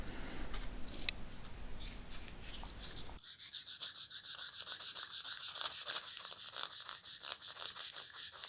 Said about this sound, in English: Now take the scissors and cut this into 3 pieces.